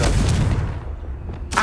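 In Hogwarts Legacy, a Confringo spell goes off as a loud, booming blast that decays over about a second, followed by a sharp second burst at the end.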